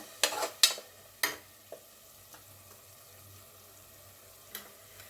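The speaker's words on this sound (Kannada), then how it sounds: "ಸ್ವಲ್ಪ ಕಲರ್ ಚೇಂಜ್ ಆಗೋವರೆಗೂ ಫ್ರೈ ಮಾಡ್ಕೊಳ್ಳಿ" Masala frying in oil for chicken biryani, with a few sharp scraping stirs of a spatula early on, then a quiet, low bubbling sizzle carrying on alone.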